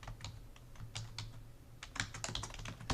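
Typing on a computer keyboard while entering text into an Excel spreadsheet, a quick irregular run of close, soft key clicks with no voices.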